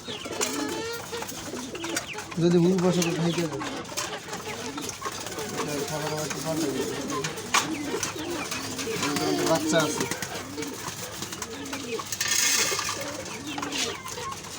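Pigeons cooing nearby, low burbling calls repeating throughout, with someone talking over them for much of the time.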